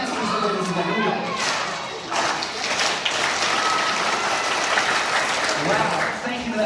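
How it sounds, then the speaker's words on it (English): Audience at a youth basketball ceremony breaking into sustained applause right after an illusionist's trick, dense clapping filling the whole stretch, with some voices mixed into the crowd. "thank you for that round of applause"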